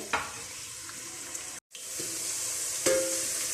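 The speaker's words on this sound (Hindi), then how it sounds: "मीडियम साइज़ का एक प्याज था जिसको मैंने स्लाइस कर लिया है बारीक। इसको हम हल्का गोल्डन ब्राउन करेंगे।" Finely sliced medium-sized onion frying in hot oil for a smoky mutton karahi gives a steady, close sizzle throughout, with a brief stir or clatter midway and a short pause before it resumes.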